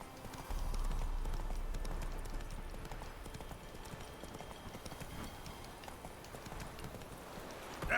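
Roach, a horse in The Witcher 3 video game, trots with quick, rhythmic clip-clopping hooves at moderate distance over a soft outdoor ambience, fairly faint in level.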